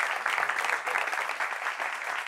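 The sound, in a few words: audience applause welcoming a guest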